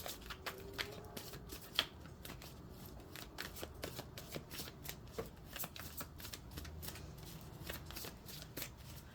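Tarot cards shuffled in steady, quiet riffling bursts for several seconds, with soft flicks and one sharper snap near the start, close and alone.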